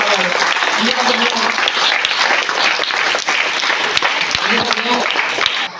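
An audience applauds loudly and continuously at an exam-materials distribution event, with a voice speaking over the clapping throughout.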